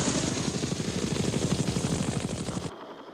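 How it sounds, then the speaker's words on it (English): UH-1 Huey infantry transport helicopter, loud and close, with a fast rhythmic blade chop thudding steadily for nearly three seconds before cutting off abruptly. "For the Army, the basic infantry transport helicopter was the UH-1 Huey."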